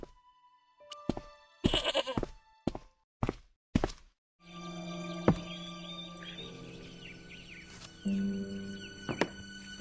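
A tethered goat in Broken Sword: Shadow of the Templars, its rope snagged on an old plowshare, bleats loudly and repeatedly. Sharp knocks and thuds come first, then a busy ambient bed carries on underneath.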